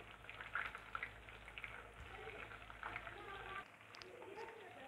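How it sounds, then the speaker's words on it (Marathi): Green chillies slit down the middle sizzle and crackle in hot oil for mutton biryani, a steady close frying hiss with small pops, fading quieter near the end. "याच्यासोबत मिरची फ्राय करून घेऊया"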